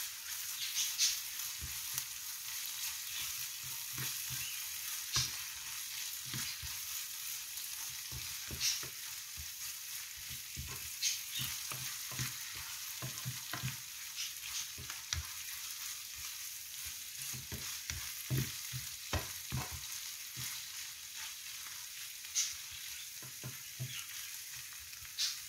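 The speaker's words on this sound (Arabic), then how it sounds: "الآن نضع الصلصة ونقلبها مع اللحمة." Meat and sauce for a green bean and rice dish fry quietly in a pan, a soft steady sizzle broken by frequent scraping clicks from a utensil stirring the mixture.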